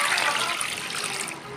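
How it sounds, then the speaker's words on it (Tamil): Water is poured into a kadai over eight eggs for an egg gravy, a steady splashing gush that runs continuously at close range with no voice heard. "இந்த 8 முட்டையும் இந்த கடாயில் வச்சு தண்ணி ஊற்றி"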